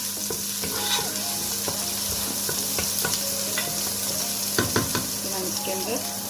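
Finely cut green chilies fry in a hot pan at a home kitchen stove, giving a steady soft sizzle with scattered scraping and stirring clicks throughout.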